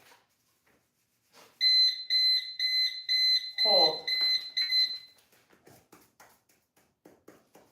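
A training timer beeps in a steady run of loud electronic pulses during a dog training session, then gives way to quieter clicks and a person giving short commands.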